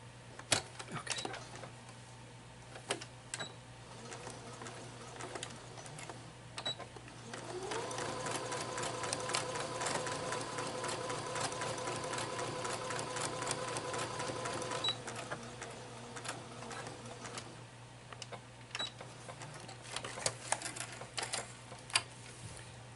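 Sewing machine stitching face mask seams, a fast steady mechanical whir for several seconds in the middle, set between scattered clicks and handling knocks, near and moderately loud.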